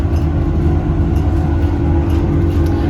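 Inside a New York train in motion, a steady, loud rumble of wheels and carriage fills the whole stretch with no pauses and no voices.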